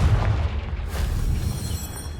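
In the Hogwarts Legacy video game, a Confringo blasting spell hits with a heavy booming explosion at the start, and a deep rumble and crackle trail off over the next couple of seconds.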